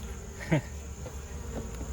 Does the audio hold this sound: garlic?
no